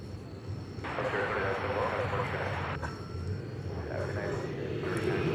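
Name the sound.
Lufthansa flight arriving at DFW Airport, aircraft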